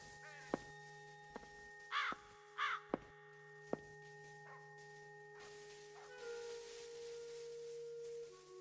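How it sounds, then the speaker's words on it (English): Crows cawing in The Lost Crown ghost-hunting game, two hoarse calls standing out over a steady humming drone, with sharp ticks and a rising tone near the end. "Large black crows are watching me."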